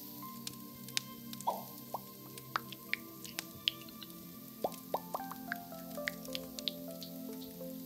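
A steady series of small bubbles popping and dripping, scattered light plops at an irregular pace over a quiet, faint background.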